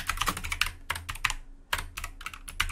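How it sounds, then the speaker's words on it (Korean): Computer keyboard typing created by an AI sound generator: quick, uneven bursts of crisp key clicks, close and fairly quiet, with a short pause midway. "키보드 치는 소리를 한번 만들어 보겠습니다."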